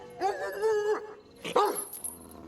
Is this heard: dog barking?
yes